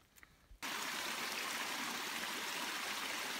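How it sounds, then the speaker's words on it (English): Waterfall and stream along the Appalachian Trail, a sudden, steady, broad rushing roar of falling water that begins after a brief quiet moment with faint handling noises, then continues loud and unbroken. "Haven't seen a whole lot of waterfalls on this trip, so this is nice."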